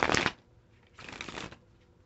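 Tarot cards being shuffled in two quick bursts of crisp riffling and flapping, close and fairly loud with a short pause between them.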